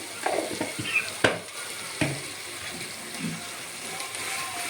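Spices and coriander powder frying in oil or ghee for pulao, with close crackling sizzle and a few sharp scrapes and clicks of stirring against the pan.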